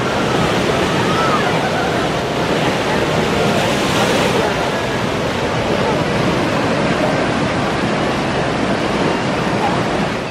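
Loud, steady rush of churning water from a theme park rapids ride at Silver Dollar City, with rock-lined channels built to look like a river. The broadband roar runs continuously, close and full, with no break.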